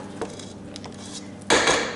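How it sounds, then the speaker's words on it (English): A spatula scrapes the sides of a mixing bowl of sugar cookie dough: faint light taps, then a louder, close scraping clatter near the end, with no talking. "I'm just going to scrape down my sides, just in case there's any butter that hasn't been incorporated"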